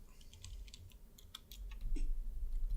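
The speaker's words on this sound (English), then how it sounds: "I'm typing this in on my phone" Quiet, rapid tapping of someone typing on a phone, a quick irregular patter of soft clicks close by against low room noise.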